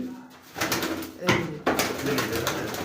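Racer pigeons, Danish satin racers kept for sale, coo repeatedly at close range with a few louder bursts, while people talk over the birds throughout.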